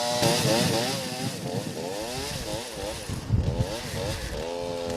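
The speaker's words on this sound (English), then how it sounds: "So the sounds through here were a lot of chainsaws that we heard." Chainsaws run continuously as crews cut up trees brought down by a wind storm in Colorado Springs, the engines whining and shifting pitch as they bite into wood, loud and fairly close, with no talking.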